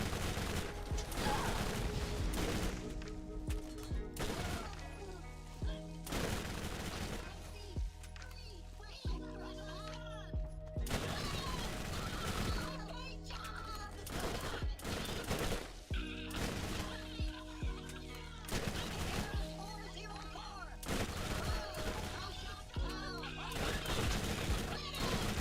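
Corrosive stinger SMG fire in Borderlands with Lilith, dense bursts of gunshots in quick repeated volleys over a loud layered game mix with music, alongside other combat crashes.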